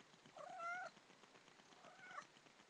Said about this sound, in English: This is the cat that's in heat.